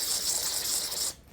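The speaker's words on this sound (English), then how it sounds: "I'll follow up those passageways with some carb cleaner." Carb cleaner sprays in one steady, close hiss into the fuel inlet of a 2007 KX250F carburetor being cleaned with the throttle held open, lasting about a second before cutting off abruptly.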